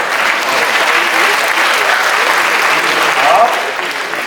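Dense, sustained applause from a large audience at the launch event of a neem pharmacy, loud and continuous throughout with a slight swell near the end, a voice faintly mixed under the clapping.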